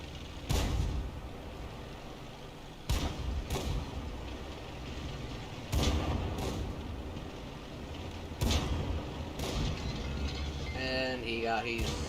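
Tank cannon fire and hits in the video game World of Tanks, including an ammo rack being struck: four sharp, heavy booming impacts spaced a few seconds apart over a low rumbling engine bed, with some brief electronic tones near the end.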